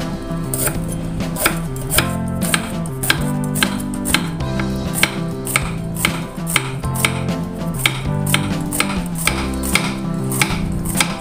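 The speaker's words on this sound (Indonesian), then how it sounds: "Kemudian iris tipis parenya" Knife chopping bitter melon into thin slices on a cutting board, a steady fast run of crisp, close taps repeating throughout with no talk.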